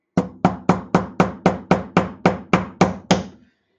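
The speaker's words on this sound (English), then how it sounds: "I can just use this hammer" Hammer tapping a Tisas ZIG M1911 pistol part during reassembly after cleaning, eleven sharp, evenly spaced knocks in quick succession, close and loud, with no talking.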